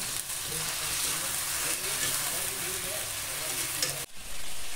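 Whole garlic cloves fry in hot oil for a duck curry at an outdoor Holi picnic, giving a loud, continuous hiss and sizzle up close that briefly dips near the end.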